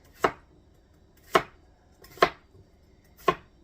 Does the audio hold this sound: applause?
no